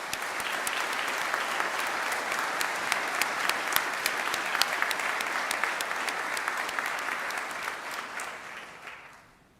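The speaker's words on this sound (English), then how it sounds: "Let's give them a round of applause for everything they've done." Audience at a university graduation ceremony applauding the graduates, a long sustained round of clapping with sharp individual claps standing out, fading away in the last second.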